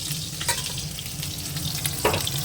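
Potatoes fry in hot oil in a home kitchen, a close, continuous sizzle with a few brief bursts of crackle and stirring.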